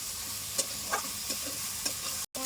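Spice paste of ground coriander and chili frying in a pan for bottle gourd kofta, a steady broadband sizzle with a few soft stirring scrapes, then a sudden brief dropout near the end.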